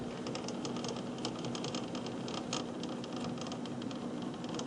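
A quickset depth stop on a drill press is tightened, giving faint clicking and creaking mechanical ticks against a quiet hiss, soft and close.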